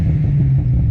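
A Ford Falcon engine held against factory launch control in second gear, a steady loud low drone sitting at a fixed limiter speed for about a second with no voices.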